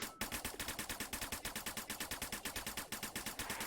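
Rapid automatic gunfire in the VR shooter Snapshot VR, a steady burst of evenly spaced shots close and loud throughout, with no talking.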